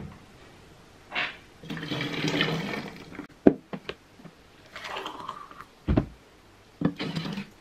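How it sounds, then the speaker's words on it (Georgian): Boiling water poured into a grated soap mixture, heard as bursts of splashing and pouring separated by short pauses and a few sharp knocks, fairly close and without talk. "ამ მასას უნდა დავამატოთ კიდევ ჭიქა ნახევარი წყალი"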